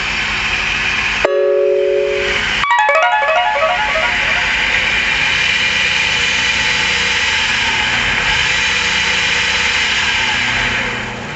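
A phase converter runs in a workshop with a loud, steady mechanical hum and whine, after a few sharp clunks and brief tonal chirps near the start.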